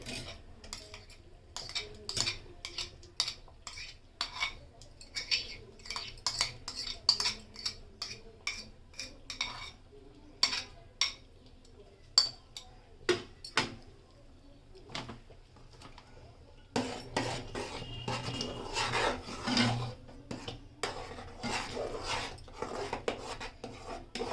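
A spoon stirring milk into date palm jaggery payesh in a pot at home: busy clinks and scrapes against the metal pot, irregular and close, then a denser stretch of scraping, with no talk.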